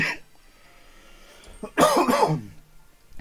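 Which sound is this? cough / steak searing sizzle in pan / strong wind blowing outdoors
cough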